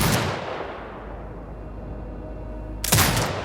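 A turret fires in Sniper Ghost Warrior Contracts 2, in a grey desert setting. A heavy, booming shot rings out at the start, its tail fades, then a second loud blast hits near the end.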